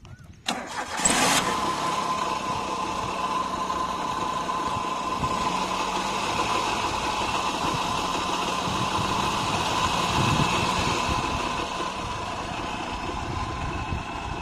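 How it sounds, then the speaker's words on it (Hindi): An older petrol Maruti Suzuki Alto LX, a 2010 model with about 150,000 km, cranks briefly, catches and then settles into a steady, even idle that runs on close and alone. "आइए स्टार्ट करके देखते हैं इंजन की साउंड।"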